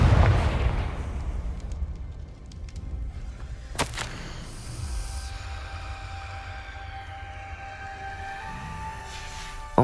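A fire-blast spell bursts in Hogwarts Legacy, with a sharp, loud crack around the middle that is followed by low rumbling and lingering magical tones, while a softer pop closes out the clip.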